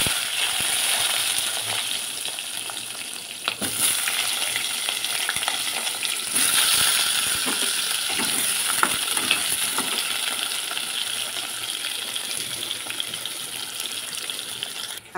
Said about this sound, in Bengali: দেবো প্রথমে একটু কালো জিরে ফোড়ন অল্প